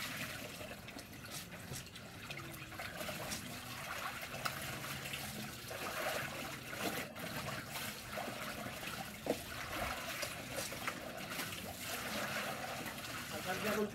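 Laundry being rinsed by hand in water, with a steady close wash of splashing, trickling and sloshing running throughout with small irregular knocks.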